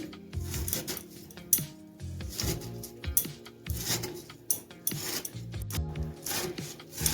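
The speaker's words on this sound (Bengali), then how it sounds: "দেখুন আমি এভাবে একটু কুচি করে কেটে কেটে নিচ্ছি শাকটাকে" A knife finely chops cauliflower leaf greens on a board in quick, close, uneven bursts of rasping cuts and taps. Brief pauses separate the runs of chopping.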